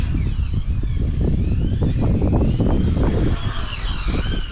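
Strong, steady wind buffets the microphone with a constant low rumble and roar, loud and close, with no voices, outdoors at a remote-control car track.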